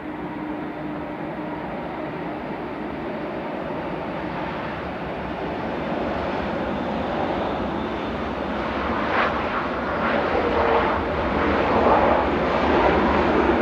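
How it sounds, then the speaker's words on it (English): Ryanair Boeing 737 MAX 8200 arriving at Manchester Airport from Lisbon, its engine roar building steadily from a distant rumble to a louder, broadband jet noise. "This is the Ryanair from Lisbon 737 MAX 8200 ERHGR"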